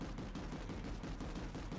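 Gunfire from a Maggie (Magrider) vehicle in Planetside 2, a steady dense barrage of rapid shots over busy battle noise, continuous and fairly close, with no voices over it.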